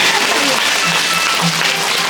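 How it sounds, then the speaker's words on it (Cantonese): Steady, dense applause from a theater audience at a Cantonese opera curtain call, loud and close, sustained without a break. "俾啲掌聲你哋"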